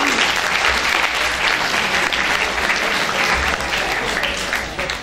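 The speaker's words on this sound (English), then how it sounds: "So let's clap for all 3 of them." At a school literary festival, an audience claps for three students, a loud, dense burst of applause that holds steady and tapers slightly at the end, with no talk over it.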